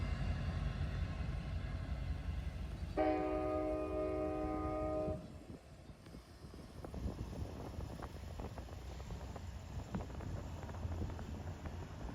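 An Amtrak Capital Corridor train rolls past Union Pacific's Roseville Yard, its horn sounding in a steady blast of layered tones before giving way to a low, continuous rumble of cars and wind across the microphone.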